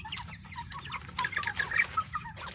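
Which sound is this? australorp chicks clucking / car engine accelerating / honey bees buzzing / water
australorp chicks clucking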